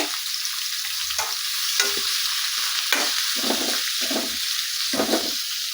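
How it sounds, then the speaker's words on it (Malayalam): Four sliced medium onions frying in hot oil with spices for a potato chicken curry, a bright steady hiss broken by soft rhythmic stirring scrapes. "അതിലേക്ക് സ്ലൈസായിട്ട് അരിഞ്ഞു വെച്ചിരിക്കുന്ന ഒരു മീഡിയം ടൈപ്പിലുള്ള നാല് സവാളയും കൂടെ ചേർത്ത് കൊടുക്കാം"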